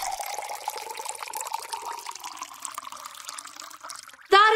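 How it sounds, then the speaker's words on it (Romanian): Water running into a carafe in an audio theatre play, a steady pouring stream with a gradually rising pitch as the vessel fills, ending in a sharp louder splash-like sound, with no talk over it. "umple-o cu apă."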